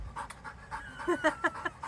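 A rescue dog pants quickly and rhythmically close by, with short breathy bursts in an uneven run of about ten breaths and no talk.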